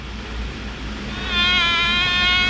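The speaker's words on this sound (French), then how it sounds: "Il y a une mouche." In an animated show, a fly's buzzing drone starts at about midway and holds steady, close and fairly loud, over a low background hum.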